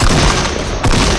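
Dense, continuous gunfire from a Fortnite battle royale match, a loud sustained barrage of overlapping shots with a brief dip before resuming, filling the whole moment without speech.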